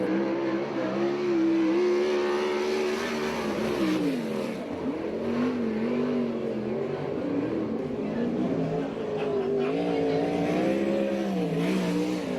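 USAC/CRA sprint cars racing around the dirt track at Alger, Washington, a continuous engine whine rising and falling as cars circle, with announcer talk running over it.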